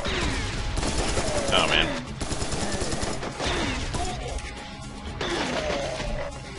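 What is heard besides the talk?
gunfire from the video game Serious Sam 3 BFE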